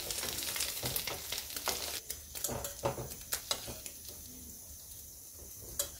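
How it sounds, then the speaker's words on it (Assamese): Eggs frying in hot oil in a pan, browning until lightly golden: a steady close sizzle with crackling pops and a few sharper spatters, no talking. "মই কণীখিনি অলপ ৰঙা পৰাকৈ ফ্ৰাই কৰি লৈছো।"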